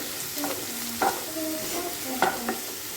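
Onions and curry leaves sautéing in a pan for a mushroom curry, a low sizzle broken by a few sharp scraping stirs of a spoon, close by, with no voices.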